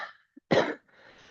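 A single harsh cough bursts out close by, preceded by a soft throat sound and followed by faint breathy noise.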